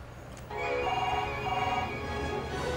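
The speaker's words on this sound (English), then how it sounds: "Who's this ringing at this time?" A telephone rings indoors with repeated trilling bursts over a low background hum, at moderate volume and with no voices.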